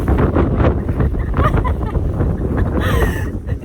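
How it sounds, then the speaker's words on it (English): Strong outdoor wind buffets the microphone in a steady, loud roar with gusty surges throughout, broadband rumble dominating from start to finish. "Even just this wind is enough to cause a discussion. Look what it's doing to me."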